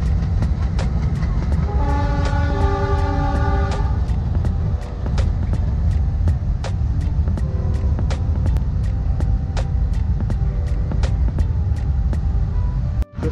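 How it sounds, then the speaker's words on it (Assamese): A train rumbles past with a continuous heavy roar and rhythmic clicking of wheels over rail joints, and a loud horn sounds for a couple of seconds early on. "ট্ৰেইন ৰাস্তাৰে গৈ আছে"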